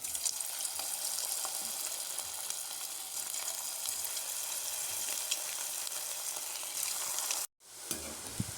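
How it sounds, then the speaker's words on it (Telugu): Vegetable manchurian balls deep fry in hot oil, a dense continuous bubbling sizzle held close and even for several seconds before cutting out briefly and resuming, with no one talking. "ఆయిల్ బాగా హీట్ అయిన తర్వాత మనం ముందుగా రెడీ చేసి పెట్టుకున్నాం కదా ఈ మంచూరియా బాల్స్, ఇవి వేసి మనం డీప్ ఫ్రై చేసుకోవాలి."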